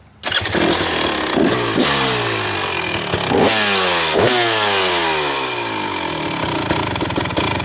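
2023 KTM 300SX two-stroke dirt bike fires up on its electric start and revs repeatedly, a loud close engine rising and falling in pitch throughout.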